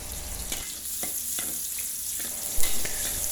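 Shallots frying in a pan for opor ayam, a steady close sizzle with occasional stirring knocks and a brief louder clatter near the end, no talking.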